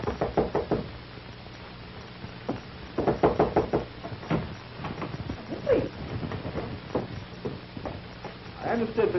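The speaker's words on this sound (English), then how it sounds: "I'll get the door." Someone knocks on an apartment door in a 1940s film, several rapid raps repeated in short clusters, mixed with speaking voices and faint footsteps on a hiss-laden old soundtrack.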